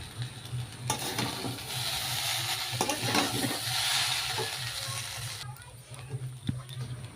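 Food is stirred in a pan right after salt is added, giving a steady scraping and sizzling texture with repeated stirring strokes; the cooking sound runs throughout at moderate level.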